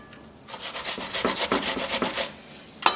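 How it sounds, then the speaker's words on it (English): An apple is grated by hand into a big bowl, a rhythmic series of close, rasping scrapes, about ten strokes in quick succession, with no voices. "grate that apple straight into a big bowl into nice long shreds"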